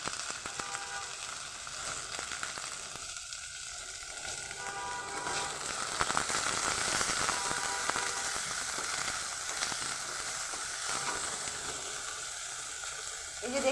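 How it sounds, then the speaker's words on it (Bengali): Chopped capsicum stir-fried in a pan for cabbage momos, giving a continuous moderate sizzle and steamy hiss that holds steady throughout with small stirring scrapes. "এরপরে দিয়ে দেবো আমি ক্যাপসিকাম কুচি"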